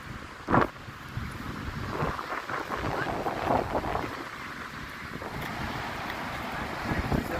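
Waves roll and wash onto a beach backed by hills while wind buffets the microphone, forming a continuous roar with one brief thump near the start.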